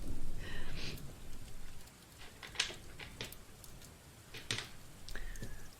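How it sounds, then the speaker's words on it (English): Digital rain soundtrack playing softly, a faint steady patter of rainfall with scattered louder drips and brief clicks. "The stuff you can hear is just digital rain, so it's a soundtrack."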